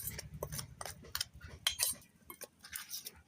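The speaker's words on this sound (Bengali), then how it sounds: "এবার আমি একটা চামচের সাহায্যে শুকনো অবস্থায় সবগুলো ভালো করে মিশিয়ে নেব।" A spoon mixes dry potato pakora ingredients in a bowl, producing a quick series of light clinks and scrapes against the bowl in an uneven rhythm, close and quiet with no talk.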